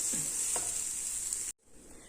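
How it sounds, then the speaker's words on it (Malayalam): Ingredients are sautéed in a pan with a steady bright sizzle and a couple of soft stirring touches, close by, before a brief cut near the end. "വഴറ്റിയെടുക്കാം ഒരുപാടൊന്നും വഴറ്റിയെടുക്കണ്ട ഒരു രണ്ട് മൂന്ന് മിനിറ്റ് ഒന്ന് എടുക്കാം"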